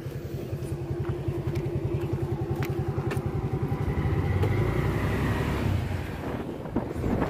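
An old Suzuki Shogun motorcycle rides steadily on a touring trip, its small engine putting out a continuous buzzing drone with a rapid pulsing beat, loud and close, mixed with wind rush over the microphone.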